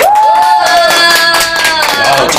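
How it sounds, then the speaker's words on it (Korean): Studio audience clapping and cheering to welcome the final member of girl group Fiesta during a Korean TV interview, loud and continuous with voices over it. "자, 마지막 멤버를 박수로 불러볼게요"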